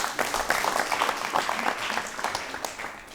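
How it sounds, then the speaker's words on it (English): Audience applause during a televised panel debate, a moderate burst of scattered clapping with uneven individual claps that stays fairly even across the few seconds. "Okay, a round of applause for him, please."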